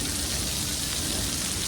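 Steady rain falls in Morbi, a dense even hiss of drops on surfaces with no breaks, moderately loud and close, with no voices over it.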